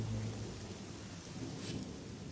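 Rain falls steadily outdoors at a driver training centre, with a low rumble of thunder at the start. A dense, constant hiss of rain carries through, and no one speaks.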